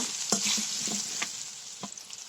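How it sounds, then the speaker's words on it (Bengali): Chopped chillies tossed with turmeric and coriander powder in a frying pan for an okra dish, a steady close sizzle punctuated by several sharp scrapes and clacks of the stirring spoon, with no talk. "এখন আমি আবার কিছুক্ষণ নেড়ে ছেড়ে দেব"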